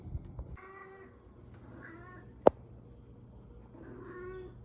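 Pet cat named Penny meows several times close by, drawn-out calls separated by pauses, with one sharp click in the middle.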